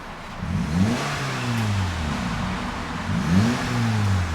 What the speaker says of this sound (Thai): เดี๋ยวฟังท่อกัน